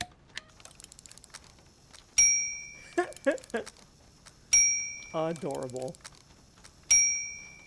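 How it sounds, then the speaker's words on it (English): Reception desk bell in the video game Syberia, rung three times at intervals, each a bright metallic ding with a long ringing decay, a voice speaking briefly between rings. "Oh, it's the reception bell."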